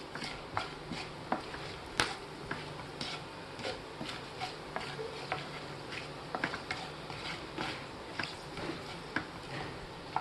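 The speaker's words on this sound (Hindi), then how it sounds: "इन खड़े मसालों को थोड़ी देर भून लेंगे" Whole spices, black and green cardamom, cloves and a piece of cinnamon, frying in a pan for an egg curry, with a faint steady sizzle and light scattered taps of a spoon stirring, quiet throughout.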